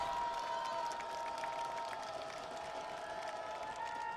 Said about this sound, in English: And the crowd getting into it a little bit here